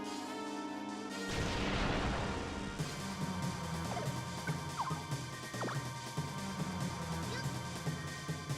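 Bomberman 64 bombs go off in a heavy crash and rumbling burst, followed by a busier stretch of game sound with small chirps and pops beneath a steady musical backdrop.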